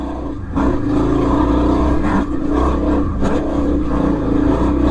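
A motorcycle rides over rough, gnarly terrain on a cold day, its engine roaring loud and steady close by with brief dips as the throttle eases, and no voices.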